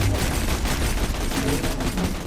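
Rifle gunfire in the video game Borderlands 2 rattles out as a dense, continuous burst of rapid shots, loud and close throughout.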